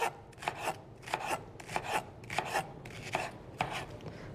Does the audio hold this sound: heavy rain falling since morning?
no